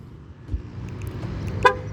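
A single brief car horn toot near the end as a 2016 Ford Focus locks with all doors shut, over a low idling rumble with faint background noise.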